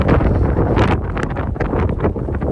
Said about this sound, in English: It's really windy, so I don't know if you'll be able to hear me or not.